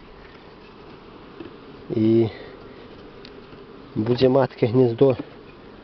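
Buckfast honey bees hum at an open hive during a spring inspection, a steady close drone running throughout while someone talks in short bursts over it.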